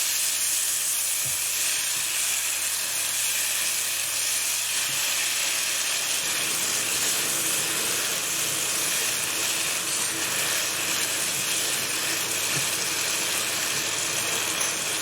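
Curry with onions and tomatoes cooks on an induction hob, giving a steady bright sizzle and hiss that carries on without pause, close and unbroken.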